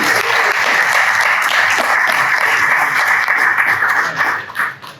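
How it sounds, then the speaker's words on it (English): At an evening business networking event, an audience gives the presenters one last round of applause: dense, even clapping holds steady throughout, then tapers off in the final second. "If you can give them one last round of applause."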